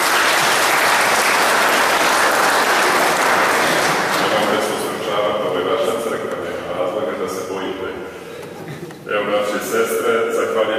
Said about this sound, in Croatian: Može jedan pljesak.